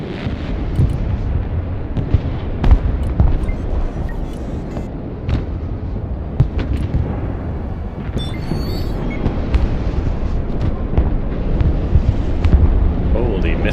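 Missiles exploding in the Broken Arrow video game, a dense, continuous barrage of booming blasts and rumbling detonations that overlap without pause, loud and close throughout.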